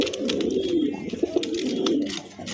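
Pigeons kept for sale coo in low, throaty, rolling calls that overlap and repeat, close and clear, with faint background noise and no talking.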